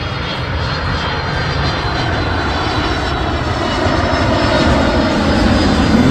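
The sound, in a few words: FedEx Boeing 767 jet aircraft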